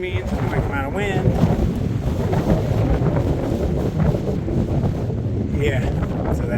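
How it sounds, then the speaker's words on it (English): Steady wind buffets the microphone during a hiking road walk, a loud continuous roar that fills the whole stretch, with faint tonal fragments that may be distant voices. "a quick amount of wind"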